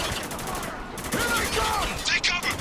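Gunfire in the Spec Ops: The Line game, headshots aimed at enemies: a steady spread of rapid shots and mechanical clatter, mid-loud, with a voice talking over part of it.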